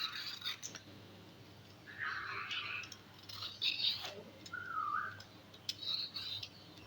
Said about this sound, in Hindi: आपको बैकग्राउंड में तोते की आवाज़ आ रही होगी बोलने की।